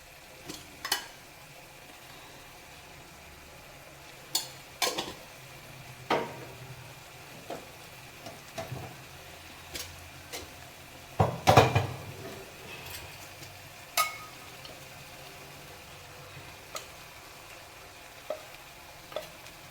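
Soft continuous sizzling of tomatoes sautéing in a pan, punctuated by occasional clinks and scrapes of a spoon stirring against metal.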